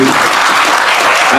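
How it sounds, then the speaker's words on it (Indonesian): Audience applause fills the room in a dense, steady wash of many hands clapping, loud and close, with a faint crowd murmur underneath. "Tepuk tangan untuk beliau"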